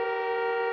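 A car horn sounds once inside a parked car, a single short, steady, loud blare that cuts off abruptly.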